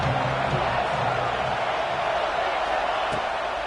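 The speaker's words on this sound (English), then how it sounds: "This crowd bringing the energy and noise early." A stadium crowd in an NCAA college football video game gives off a steady, dense roar that stays loud and even the whole way through, with no breaks or peaks.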